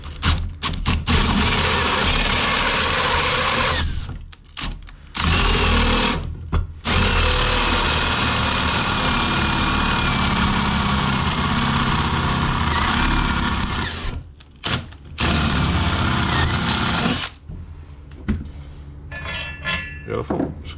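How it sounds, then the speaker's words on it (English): A loud, grinding metal drilling whine from a step drill bit cutting a metal engine bracket for a stand-up jet ski's two-stroke engine, in long sustained passes broken by brief pauses, close up and harsh. "I'm going to use a step drill bit here"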